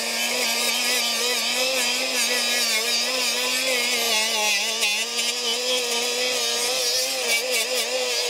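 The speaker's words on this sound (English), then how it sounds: "I just use a wire brush on a drill." A wire brush spinning on a drill cleans engine parts, giving a continuous loud whine with a wavering pitch that holds steadily throughout.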